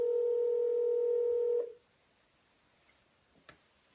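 A landline telephone gives a steady dial tone for about a second and a half during a live prospecting call, then cuts off, leaving near silence with a couple of faint clicks.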